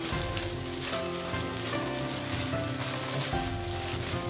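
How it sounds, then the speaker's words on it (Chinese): Scrambled egg pieces fry in oil in a wok until dry and fragrant. A constant, close sizzle with a rain-like patter continues without break, with faint background music and no voices. "把鸡蛋炒出干香味"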